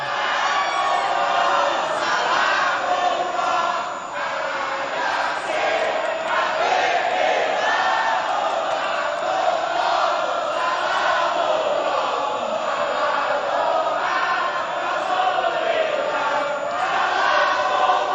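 A large crowd of supporters for candidate pair number 2 cheers and shouts at a gubernatorial debate, a dense, continuous roar of voices sustained loudly throughout.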